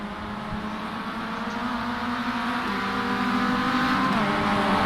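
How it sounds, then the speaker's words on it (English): Race car engine from a close lap-after-lap club motorsport battle, loud and continuous, its pitch climbing steadily before a sharp jump in revs near the end. "Just heard a massive rev spike there from one of the cars."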